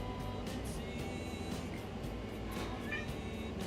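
A cat meows faintly over a steady, dense background hum, with a few brief cries across a few seconds.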